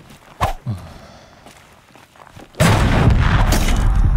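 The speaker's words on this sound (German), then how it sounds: "Schlag, jetzt schlag ich die Waffe da ab." In Horizon Zero Dawn, a weapon is knocked off a machine: a couple of heavy thuds and impacts, then a sudden loud, sustained burst of crashing noise.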